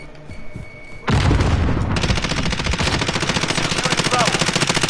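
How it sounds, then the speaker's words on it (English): A grenade detonates with a loud boom in Call of Duty Modern Warfare online play, followed immediately by sustained rapid automatic gunfire rattling steadily to the end, with voice chatter underneath. "Grenade out!"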